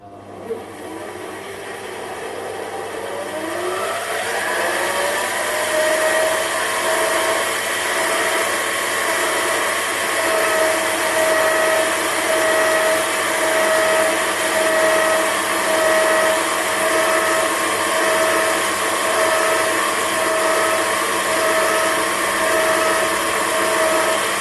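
A 7x12 mini lathe turns mild steel stock with a CCMT carbide tip insert, a steady motor whine that rises and settles into a sustained tone with a constant high cutting hiss for over twenty seconds.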